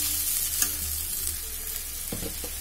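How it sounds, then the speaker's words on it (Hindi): Urad dal frying in a pan over the fire until golden, a steady close sizzle with a few light scraping stirs of a spoon, no voices. "गोल्डन रेड होने तक पकाएंगे इसे,"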